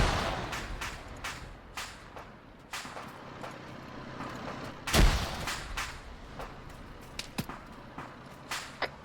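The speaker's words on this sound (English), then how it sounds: "Yeah, no wonder they're lobbing grenades. They got grenade launchers, like China Lakes." Gunfire and grenade launcher blasts in an Arma 3 Cold War battle, with scattered sharp shots near and far and one heavier thump midway, all fairly quiet and irregular.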